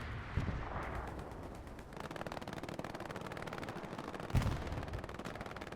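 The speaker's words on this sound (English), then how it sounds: "ME-109 flies above, tries to strafe the front line" Machine-gun bursts from an ME-109 fighter strafing the front line in the Hell Let Loose game at Tobruk, dense rapid gunfire rattling continuously with heavier booms near the start and around the four-second mark amid battlefield noise.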